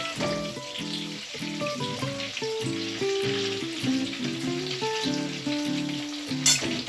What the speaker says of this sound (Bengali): চিকেন প্রায় কুক হয়ে গেছে, এখন শুধু আরেকটু লাল করে নামাবো।